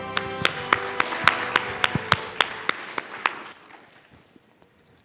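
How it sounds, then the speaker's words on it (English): Audience applause for conference panelists and their moderator at Thailand Focus 2023 in Thailand, a clear burst of claps that thins out and fades after about three seconds, leaving scattered late claps. "please give a round of applause to all the panelists and moderator."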